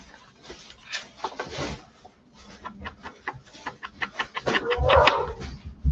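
Dogs bark in a series of short, uneven barks, moderately close and growing busier toward the end, with no talking over them.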